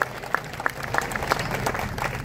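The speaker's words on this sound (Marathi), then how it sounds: "सगळ्यांनी टाळ्या वाजवून त्यांना शुभेच्छा द्याव्यात." A crowd at a BJP municipal council campaign launch rally at Vijay Chowk claps for a candidate, scattered individual claps over a steady bed of applause, moderately quiet and brief.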